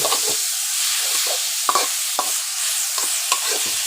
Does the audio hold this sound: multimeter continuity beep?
no